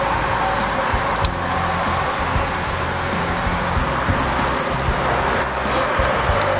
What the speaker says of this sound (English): I put a timer on for 5 minutes.